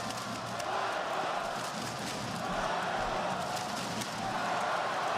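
Esports arena crowd roaring in support of Falcons during a Counter-Strike match against Spirit, a dense, steady wall of cheering and chanting that holds loud and unbroken throughout with no clear voice on top.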